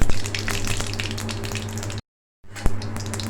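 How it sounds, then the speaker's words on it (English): Mustard seeds crackle and pop in hot oil in a pan, giving a dense run of sharp sizzling snaps, broken by a short gap before the popping resumes. "Now I'm going to add the mustard seeds, allow it to get it popped up"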